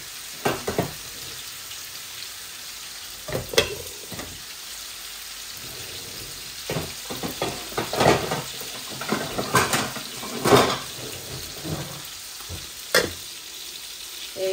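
Spice tempering for a Bangladeshi rohu mustard fish curry fries in a pan, irregular sizzles and spatula scrapes and clinks coming and going, louder bursts toward the middle, close by with no talk.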